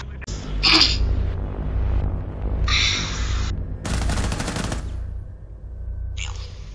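Bursts of rapid gunfire in a Rainbow Six Siege match, several loud short volleys and one long sustained burst with quiet gaps between them, close and sharp, with no talking.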